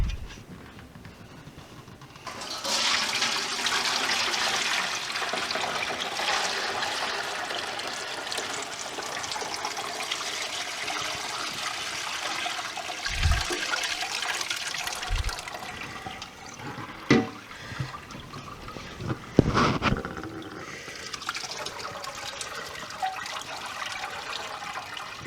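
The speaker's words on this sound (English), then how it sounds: "We're going to pour our curds and whey into this and collect the curds." Curds and whey poured from a pan into a cheesecloth-lined wire mesh colander, a steady splashing, trickling pour lasting most of the clip, with a few louder sloshes and drips toward the end.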